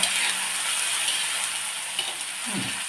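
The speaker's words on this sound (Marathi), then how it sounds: "यामध्ये आपण पेस्ट टाकून घेऊया पेस्ट चांगली हलवायची गॅस थोडा कमी करा" Coconut paste is fried and stirred in a pan, giving a steady close sizzle with a faint scrape of the spoon near the end. There is no speech.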